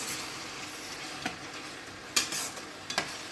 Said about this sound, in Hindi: इसी तरह खुले हुए में थोड़ा मसाला को भून लेंगे।